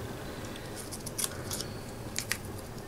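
Scissors snip through paper for a card belly band in a few short, crisp cuts, scattered across a quiet background and heard close up.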